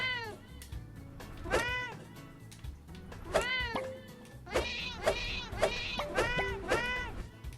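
A cartoon cat in the video game Fancy Pants Adventures meows repeatedly, a string of about eight quick, loud meows coming in a rapid, uneven series over faint background sounds.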